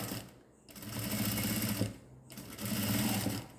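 A sewing machine stitches a zip into a churidar in loud, close bursts of rapid whirring, pausing twice between runs of stitching.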